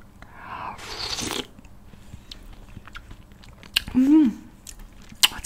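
Close-up eating of spicy buldak chicken soup with glass noodles: soft bites and chewing with slurpy, wet mouth sounds in scattered bursts, plus a brief hummed voice near the end.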